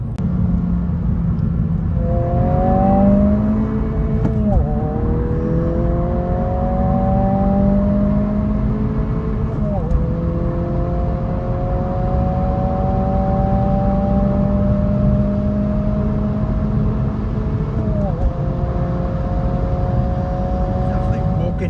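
A Honda Civic Si with a 1.5-litre turbo engine accelerates hard through several gears, its rising engine drone dropping at each shift, with a steady road rumble underneath and people talking over it inside the car.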